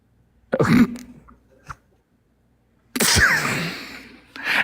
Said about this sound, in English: That was definitely a sneeze.